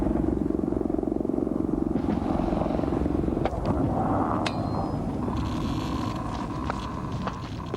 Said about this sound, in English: An Mi-24, heavily armor-plated, but still cautious enough to drop decoy flares.